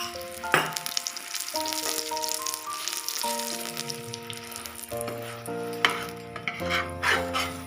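Oil sizzles in a hot pan for paneer paratha, a soft crackling hiss with a few sharp spits, partly under steady background music.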